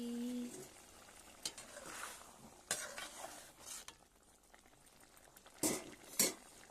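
Broad beans masala cooking in a pan, quiet bubbling and faint simmer with a few sharp utensil stirs and clinks against the pan.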